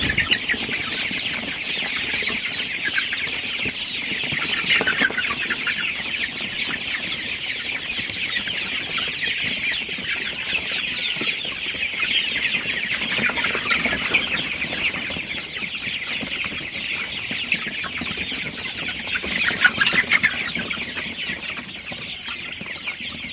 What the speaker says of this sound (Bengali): আপনারা দেখতে পাচ্ছেন মুরগিগুলা ভালোই খুবই ভালো আছি সুস্থ আছি